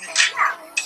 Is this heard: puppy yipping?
yes